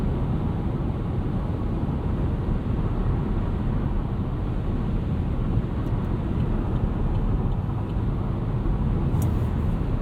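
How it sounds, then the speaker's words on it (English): Steady broadband wind and road rush inside a 2017 Chevrolet Bolt EV electric car cruising at 70 mph, a constant even roar with no engine note and no talk. "Cruising at 70 miles an hour. A little bit of wind noise, and that's about it."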